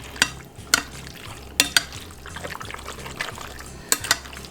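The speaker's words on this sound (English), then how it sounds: "So you stir this up really nicely." Garlic chicken marinade stirred in a bowl, giving soft wet swishing with a few sharper clinks of the utensil against the bowl, close and moderately loud, with no talking.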